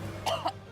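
A person coughs after choking, two quick close coughs in a row over a quiet room tone.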